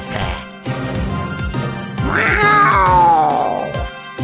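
A cartoon cat in a Brawl Stars animation lets out a loud, drawn-out meow that rises into a wailing caterwaul, over rhythmic background music.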